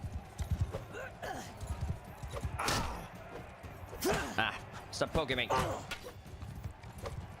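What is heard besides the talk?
horse hoofbeats in the video game Mount & Blade II: Bannerlord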